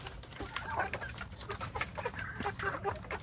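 Free-range Indonesian village chickens cluck in short, repeated bursts from several birds, soft and nearby in a quiet farm setting.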